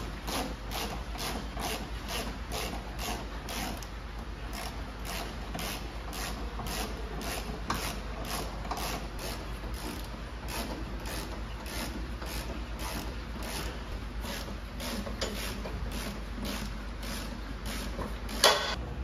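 A ratchet works steadily while screws are loosened for battery removal, giving a long regular series of clicking strokes at an even rhythm, moderately close, with a faint background hum throughout.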